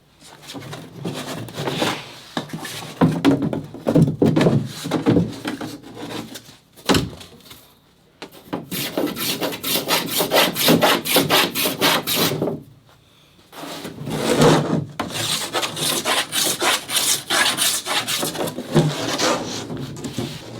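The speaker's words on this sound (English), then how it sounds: "So I'll just back bevel those bottom edges next, and then we'll trim at the bulkhead." Plywood deck-hatch edges on an International 2.4mR sailboat being back-beveled by hand, giving close, rhythmic rasping strokes in three long bursts separated by short pauses, with no talking.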